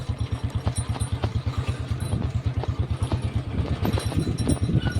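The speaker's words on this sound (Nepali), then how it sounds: "धेरै दुःखपछि बाइक स्टार्ट भइसकेको छ" An old Royal Enfield Bullet motorcycle engine runs steadily after a hard start, its loud, rapid thumping pulse close up with some mechanical clatter and no talk.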